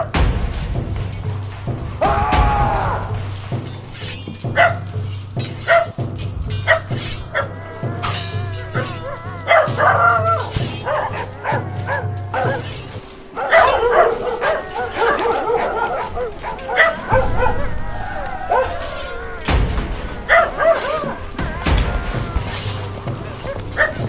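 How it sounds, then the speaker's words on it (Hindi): A large pack of dogs barks, yips and whimpers continuously and loudly, a dense, chaotic chorus of many animals close by that carries on with no break. "बाबा रूपनाथ को जब रावली की सेना आती दिखाई लेती तो अपने 500 खुखार नरभक्षी पालतू कुत्तों को रावजी की फौज पर खुला छोड़ देते।"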